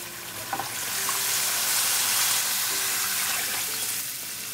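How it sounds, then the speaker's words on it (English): Four cups of water go into a hot pot of rice pilaf with cooked ginger and garlic, setting off a loud, steady sizzling hiss that lasts throughout with no talking. "now we're going to bring the water. It's 4 cups of water."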